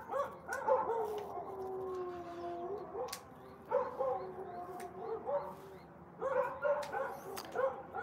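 Several dogs bark, yip and break into long wavering howls close by, in bursts separated by short pauses, with cockatoos present in the same setting.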